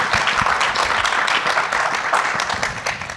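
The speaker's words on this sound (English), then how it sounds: "let's give them a huge round of applause" A live audience at a thalassemia community event claps enthusiastically, a dense, fairly close wash of applause with individual hand claps standing out throughout.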